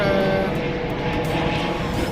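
An airplane flying overhead, a steady broad engine roar that holds loud and even throughout with no talking.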